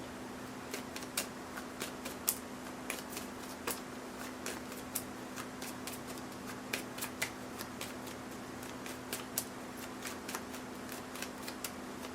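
Tarot cards are shuffled and drawn by hand in a quiet room, a steady run of soft snapping card flicks over a low constant electrical hum.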